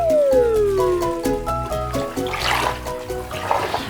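Water running into a bath as a big dollop of bath foam is poured in, heard as a steady, loud gush and splash. A musical backing plays over it throughout.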